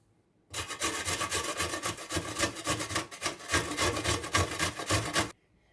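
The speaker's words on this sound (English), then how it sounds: "I am going to add the other ingredients and grate the onions" Onion grated by hand on a grater for Swedish meatballs, a steady run of rough scraping strokes, close and loud, with no talking.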